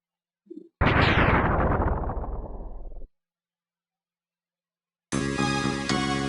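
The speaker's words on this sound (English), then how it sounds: "Lots and lots of explosions." In Mega Man X2, a short pop, then a big booming explosion that decays over a couple of seconds, silence, and then loud dense game sound effects resume.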